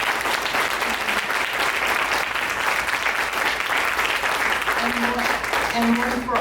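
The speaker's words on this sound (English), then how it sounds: "Can we have one more round of applause for our candidates," An audience at a mayoral candidates' forum gives a steady round of applause, dense clapping throughout with a few voices rising faintly near the end.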